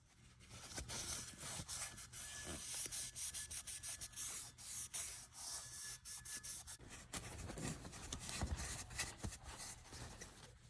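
A paper towel rubs and wipes across a Vertex HV-8 8-inch rotary table during cleaning, a close, steady scrubbing run of short repeated strokes with brief pauses, no voices.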